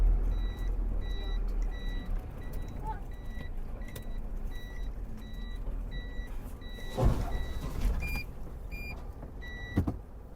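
A pickup truck sounds its reversing alarm, a steady, evenly spaced chain of high electronic beeps over a low engine and road rumble, with a few soft knocks.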